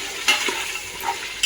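One kilo of mutton stirred into a pan with a cup of curry leaves, a brief scrape and rustle over a soft sizzle, with a couple of sharp utensil taps.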